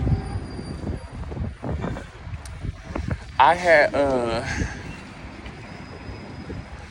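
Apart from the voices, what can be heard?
train passing nearby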